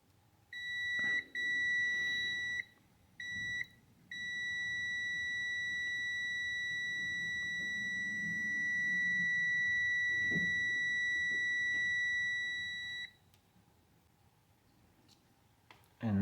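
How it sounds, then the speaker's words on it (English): A multimeter gives a continuity test on the pins of a Honda main relay bench test: one long steady electronic tone after a few short beeps, clear and close, then quiet. "And now we're gonna check continuity between pins 6 and 7 here."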